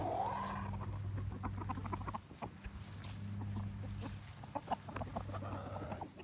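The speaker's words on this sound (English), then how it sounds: "Chickens, you guys want some food over here?" Farmyard chickens cluck softly and repeatedly near a feeding spot, the bursts scattered across steady low background noise with no voices heard.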